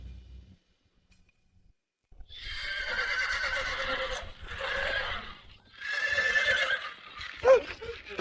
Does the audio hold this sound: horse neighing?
yes